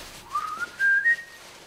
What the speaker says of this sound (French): Ah, il siffle.